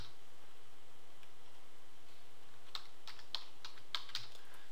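Keys tapped on a computer keyboard while a search term goes into a website search box, a short run of light, quiet clicks in the second half after a near-silent start, with no talking.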